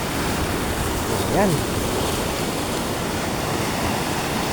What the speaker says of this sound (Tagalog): Yan oh, lalaki ng alon.